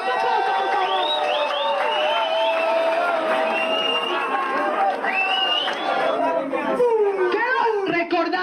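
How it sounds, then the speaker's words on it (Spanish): An audience applauds a team at an academic workshop game, steady clapping mixed with loud overlapping chatter and a few whoops and cheers. "Otro aplauso, por favor."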